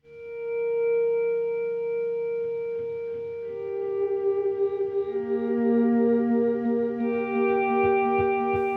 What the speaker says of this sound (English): You can clearly hear the repeats of the delay.